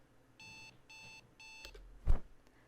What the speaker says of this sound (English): He cringed at the sound of his alarm clock buzzing and turned it off with an irritated slap.